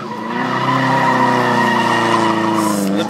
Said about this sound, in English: Slipping the belt while redlining.